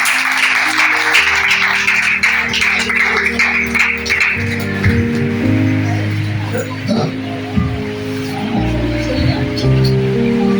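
Loud applause fills a church congregation in the first few seconds, then gives way to a preacher's amplified voice with low musical tones underneath.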